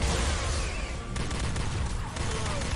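Energy-weapon fire from a phaser rifle in the Star Trek game Elite Force 2, a dense, continuous run of rapid zapping bursts that stays loud and steady throughout.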